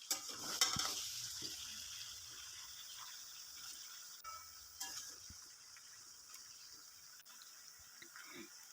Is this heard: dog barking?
no